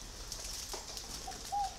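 A spotted dove gives a couple of faint, distant cooing notes over steady background hiss, with a soft flutter of wings partway through.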